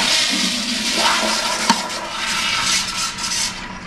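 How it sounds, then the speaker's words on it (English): A 2007 Mansfield Quantum toilet with a push button on the center of the lid tank flushes with a loud, steady rush of water, close by, with no talking. "Let's flush it."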